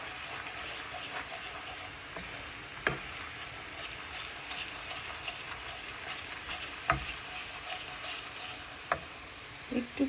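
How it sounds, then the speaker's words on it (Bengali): Flour being fried in a pan while stirred, a steady soft sizzle running throughout with a few isolated clicks and taps of the utensil against the pan, close and moderately quiet. "একটু একটু করে ফ্লাওয়ার অ্যাড করে নিচ্ছি এবং এটা ভালোভাবে আমি ভেজে নিব"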